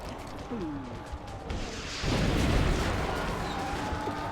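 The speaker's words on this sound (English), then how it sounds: "I think I have to fire the rocket" A rocket launched in XCOM Long War, the turn-based strategy game, gives a sudden loud whoosh and blast that swells at the midpoint over a steady background rumble, with no talking.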